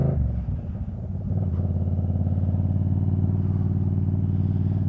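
Yamaha MT-07 motorcycle rolling onto a gravel road: a steady, loud low engine drone at a constant idle-like pitch, with rough crunching texture early on before settling into an even, close rumble.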